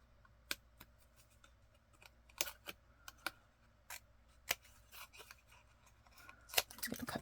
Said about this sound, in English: I think I'll do that with a pair of Sharpie sharp point scissors